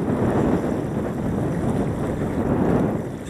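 Strong wind buffeting the microphone on the bow of a boat in a constant low roar, loud and close, with faint water movement beneath it.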